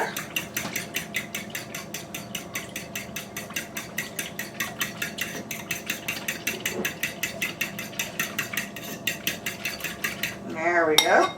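Eggs and whole milk whisked in a bowl: a steady, fast rhythm of metal whisk clicks against the bowl, carrying on evenly for about ten seconds before a brief scraping flourish at the end.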